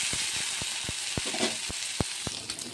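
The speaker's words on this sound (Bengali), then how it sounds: "নুন হলুদ মাখিয়ে চিংড়ি মাছটাকে ভেজে নেব।" Shrimp coated with salt and turmeric fry in oil, a close steady sizzle broken by sharp spatters and occasional taps in the pan.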